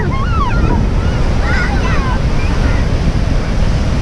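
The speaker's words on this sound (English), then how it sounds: "When the waves are coming in and hitting those rocks, it's really cool." Ocean waves roll in and crash against rocks at San Buenaventura State Beach, a steady loud roar of surf with wind buffeting the microphone, while a few faint bird calls carry over the wash.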